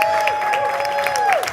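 A conference audience at a digital health startup demo day applauds in a brief, steady wash of clapping under a sustained tone with falling whistle-like sweeps.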